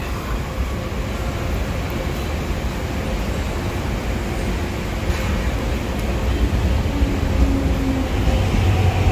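A Hong Kong metro train runs at speed, a steady loud rumble with rail hiss and rattling throughout the ride, no talk heard.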